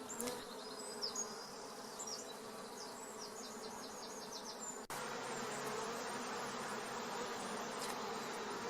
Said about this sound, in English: this is a drone bee, which I'm just very, very gently holding in my glove